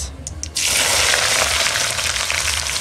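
Chopped onion with garlic and ginger paste drops into plenty of hot oil and breaks into a loud, dense, continuous sizzle after a few brief clicks at the start, close up.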